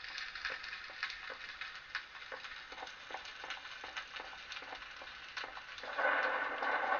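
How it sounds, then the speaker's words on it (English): Thunderstorm with rain in a video game: a steady patter of rain under faint rumbles and a series of crackling bursts, louder hiss toward the end, no speech. "we've got a thunderstorm going on in Spawn"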